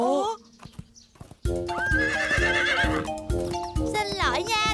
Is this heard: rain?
no